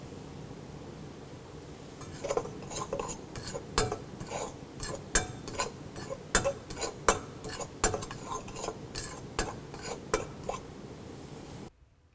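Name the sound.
fork mixing flour and coconut milk batter in bowl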